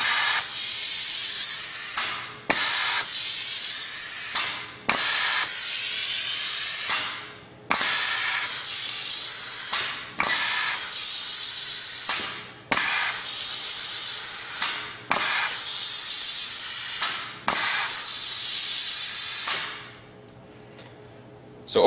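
A Piab vacuum gripper picking mini biscuits and slider buns cycles on and off, with eight long loud bursts of hissing air, each about two seconds and fading, split by short clicks and gaps, alone.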